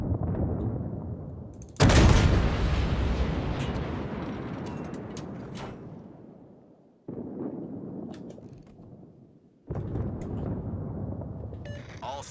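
Warship guns in a naval combat game fire on a target, heavy booming salvos with long rumbling decays, three loud blasts spaced across the stretch, with a voice talking in between.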